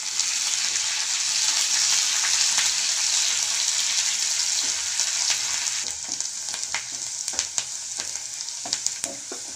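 Onions, curry leaves, sliced garlic and dried red chillies fry in a tempering for bathua dal. A loud, dense sizzle settles into lighter crackling with scattered sharp pops and stirring clicks toward the end.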